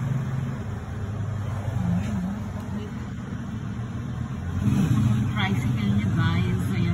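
A motorized tricycle passes on a road in the Philippines, a steady engine rumble that swells louder toward the end over continuous traffic noise.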